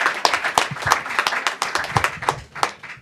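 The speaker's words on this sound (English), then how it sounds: "We're going to clap a lot tonight." A small audience at a public forum in the Bay Area on the future of the Internet claps. The handclaps are loud, near and sparse enough to pick out individual claps in an uneven rhythm lasting about three seconds.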